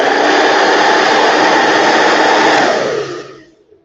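A handheld hair dryer is switched to its top airflow and heat settings, giving a loud, steady close-up roar that holds for about three seconds, then winds down and fades out.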